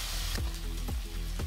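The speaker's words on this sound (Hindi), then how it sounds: "फ्रेंड हम लाल होने तक इस तरह से चला चला के इसे भूजेंगे" Ingredients for Bihari-style kadai paneer fry in a kadai until reddened, a loud close sizzle with a few quick scraping strokes of a stirring spoon.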